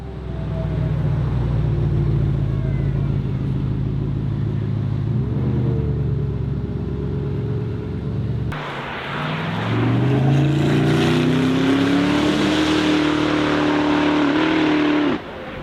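A Koenigsegg hybrid hypercar's twin-turbo V8 rumbles at a steady idle, then blips and revs hard, climbing in pitch with a loud, close growl.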